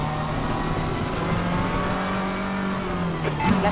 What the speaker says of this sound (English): That's the car coming up behind you.